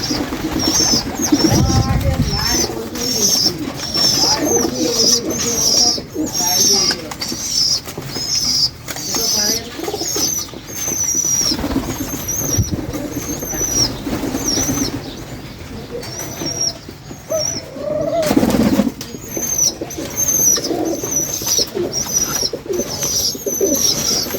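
Pigeons coo repeatedly close by as a pigeon feeds its chick while a person talks over them, with a brief flutter of wings partway through.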